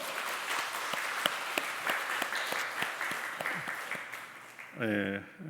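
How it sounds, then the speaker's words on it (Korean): A church congregation gives a welcoming round of applause for visitors during a Korean Sunday service, steady clapping with distinct individual claps, and a voice speaks briefly near the end. "우리 같이 환영의 박수 한번 하시겠습니다."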